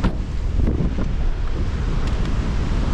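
Strong wind buffets the microphone on a beach in Hopetoun, Western Australia, with waves and surf rolling in underneath; a loud, steady roar with no one speaking.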